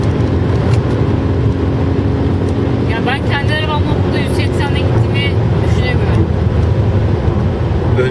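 A BMW M5 engine drones loudly from inside the car as it pulls in fourth gear at about 160 km/h, with a rising whine partway through and a person's voice talking over the engine noise.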